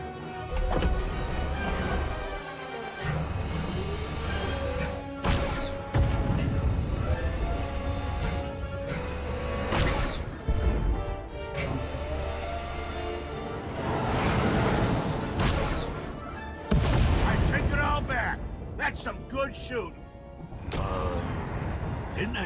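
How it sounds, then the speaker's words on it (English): Starship weapons fire in Star Wars: The Old Republic, with layered whooshing blasts and mechanical rumbles sweeping through a dense, loud sci-fi soundscape, while voices talk over it at times. "Activating firing pattern."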